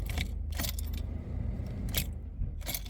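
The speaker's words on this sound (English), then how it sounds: "ignition on, turn the key" Car keys jangle in the ignition as the key is turned on a car that won't start, its starter motor spade connector loose after a freeze; several close, bright jingling bursts come over a low steady hum.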